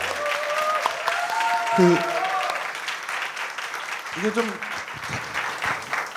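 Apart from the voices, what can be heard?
audience applause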